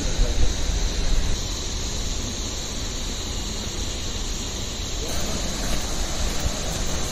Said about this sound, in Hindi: मंदिर के नीचे कल्पगंगा बहती है